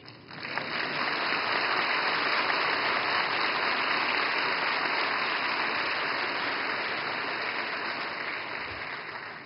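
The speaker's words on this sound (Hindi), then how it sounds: "मुझे खुशी है कि सबसे ज्यादा तालियां इस बात पर पड़ी" A large audience applauds at an opening ceremony in Mumbai, a dense, sustained roar of clapping that swells quickly and holds steady for several seconds before easing slightly.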